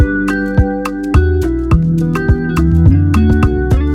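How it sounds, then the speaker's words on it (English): Guitar Afrobeat melody of plucked, clean notes rides over a punchy drum loop with regular kick and snare hits, a bright bouncy groove playing alone without voices. "in this video I'll make a guitar Afrobeat that will sound like this."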